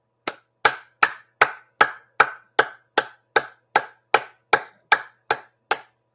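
Hands clap for Ogiso Uwa in about fifteen sharp, evenly spaced claps at a steady rhythm, close and loud with silence between them and no talking.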